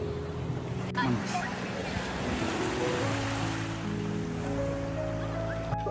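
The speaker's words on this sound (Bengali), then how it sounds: "খুব নিরিবিলি একটা সমুদ্র সৈকত" Sea waves wash onto a quiet beach near Kuala Lumpur in a steady, loud rush of surf with wind buffeting the microphone, close by and alone without voices.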